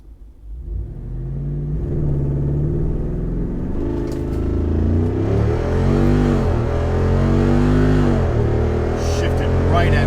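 Jeep Wrangler 392 V8 on 35-inch tires pulls hard toward redline, a loud rising engine roar with a clear upshift near the four-second mark before climbing again, close-up and sustained throughout.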